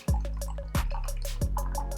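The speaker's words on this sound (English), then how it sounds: "So I'm gonna get this poured into your champagne glass" A cocktail poured into a champagne glass, heard as repeated liquid glugs and drips at a close, fairly loud level, three sharp splashy onsets with pings of glass between them.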